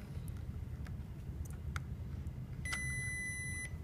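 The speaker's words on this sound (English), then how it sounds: "the buzzer is buzzing and the LED is lighting up" An Arduino water-detection alarm sounds a short electronic buzzer tone near the end, after a few faint ticks over a steady low hum of background noise.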